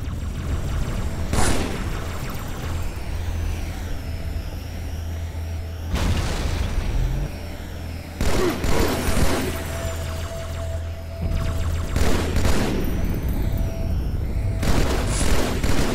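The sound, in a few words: gunfire in the video game Halo 2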